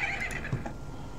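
A horse whinnies briefly in The Legend of Zelda: Majora's Mask, a short high neigh over a steady low background hum.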